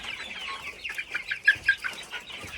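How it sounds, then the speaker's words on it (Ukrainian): Sexed Tetra hens in a home poultry yard cluck in a quick, irregular series of short calls, fairly close and clear, with no talking over them. "маю на увазі ось оцих ось курочок сортованих"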